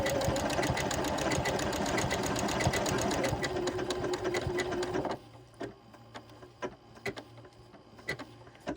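Sewing machine stitching a buttonhole-stitch appliqué, running in a steady rapid needle rhythm before slowing near a corner, then breaking into short separate stitches as it pivots forward and back.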